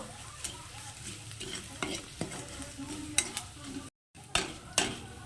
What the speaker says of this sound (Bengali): তো এবার এটাকে একটু দু মিনিট ভাজা করে নেব